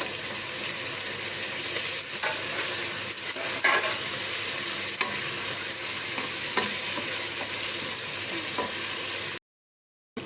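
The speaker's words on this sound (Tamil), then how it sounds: "இப்போ நம்ம புதினா, கொத்தமல்லி, 2 பச்சை மிளகாய், சரி, அதை போட்டுருவோம்." Mint leaves, coriander and green chilies fry with softened onions in hot oil for chicken biryani, a steady close hiss and sizzle with faint stirring scrapes, cutting out abruptly near the end.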